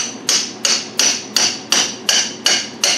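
Steady metal hammer strikes on a chisel separating the back of a mount from a block held by dowel pins, eight sharp ringing blows at an even rhythm, close and loud with no talking.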